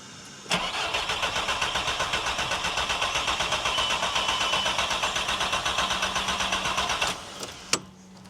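A Volkswagen Golf Mk4 engine cranking over without catching, a close, even, rapid chugging of the starter that runs for about six seconds and then cuts off, followed by a sharp click.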